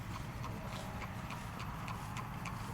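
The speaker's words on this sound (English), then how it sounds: "there's a horse coming" Horse hooves clip-clop in a steady, evenly spaced rhythm, close and fairly loud over a constant low rumble near a railroad crossing.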